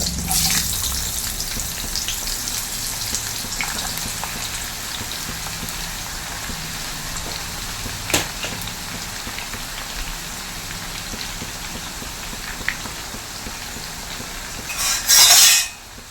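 Chopped raw green mango pieces fry in hot oil for a Kerala-style oil mango pickle, giving a continuous, even sizzle with a few brief clinks and a louder clatter near the end.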